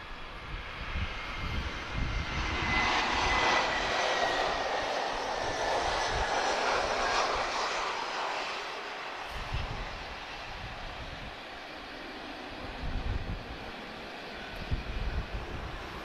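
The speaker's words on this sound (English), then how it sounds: "So our first heavy of today, guys, A330neo." An Airbus A330neo heavy airliner departing, its engines building into a loud, broad jet roar that peaks, then gradually fades with low rumbling as it climbs away.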